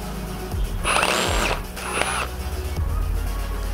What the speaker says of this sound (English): since your drill is on reverse